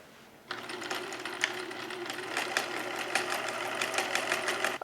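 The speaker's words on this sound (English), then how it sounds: "So I think I will do just like a small top stitch on just this one right now." Sewing machine running steadily as it top stitches the neckline seam of a shirt sewn from a bedsheet, a close, continuous mechanical whir with rapid needle ticking that starts abruptly and holds at an even level.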